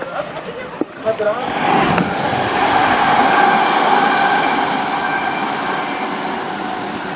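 A train rumbles past in a long, steady roar of rolling wheels and clatter that builds and holds, loud and close throughout.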